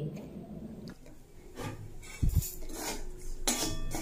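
Gram flour is roasted in a kadai while a spoon stirs it, giving soft scraping and intermittent metallic clinks and knocks against the pan, close and fairly quiet.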